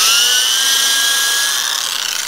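A power drill drives a screw into a Traveler guitar, giving a loud, close, steady high-pitched whine that holds for a couple of seconds and fades slightly at the end.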